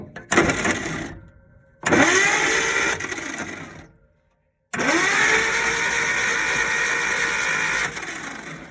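A 1956 Dodge H6 engine cranks in short bursts as the starter solenoid is jumped with a screwdriver, two brief cranks with gaps of silence, then a longer steady loud run.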